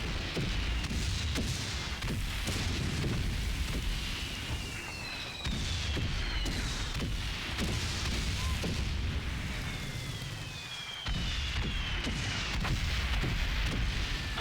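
Bombs falling and exploding in the World War game Valiant Hearts, with repeated deep booms over a dense rumbling battlefield and descending whistles of falling shells between blasts.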